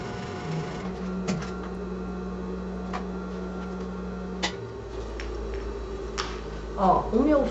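A sewing machine stitching along the lining edges of a fabric pouch, a steady close motor hum with rapid needle ticking that stops partway, followed by fabric rustling and handling.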